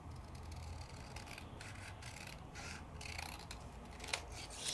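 Scissors snip through thin rice paper up close, faint crisp cuts and soft rubbing of the sheet in a quiet room.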